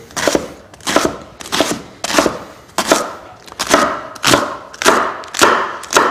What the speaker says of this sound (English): So we're going to chop up some endives in here.